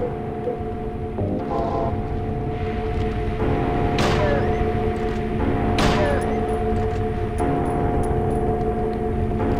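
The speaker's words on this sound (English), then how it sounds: "the shotgun does a lot of damage" Shotgun blasts in the video game Silent Hill 3 on PC: two sharp, loud bangs a couple of seconds apart over a steady droning game ambience with mechanical hum.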